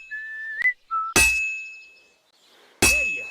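Two loud, ringing metallic clangs of a hammer striking a sword at a forge in Kingdom Come: Deliverance II, spaced well apart, each decaying slowly, with a short bout of whistling before the first strike.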